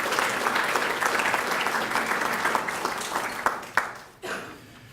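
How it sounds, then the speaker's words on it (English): Applause from a crowd at a city volunteer celebration in Centerville, steady and sustained, thinning toward the end with a few last claps before it fades. "So a round of applause for all of you as volunteers."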